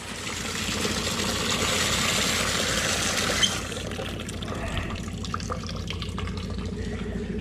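Water gushes steadily from a tap into a bucket on a farm, a continuous filling hiss that softens and changes tone midway, moderately quiet with no speech.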